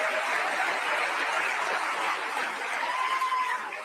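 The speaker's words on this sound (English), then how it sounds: "Applause." Applause from an audience at a political talk event, a dense, continuous roar of clapping, fairly loud and steady for several seconds with a hint of crowd noise.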